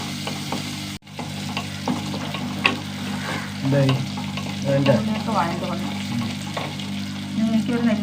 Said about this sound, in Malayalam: കറിവേപ്പിലൊക്കെ പാടി നന്നായി വഴണ്ട് വരട്ടെ